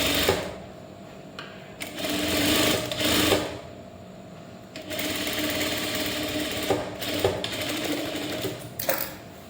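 A sewing machine stitches a blouse back neck design in several short bursts of needle chatter, separated by brief pauses, with a motor hum between runs.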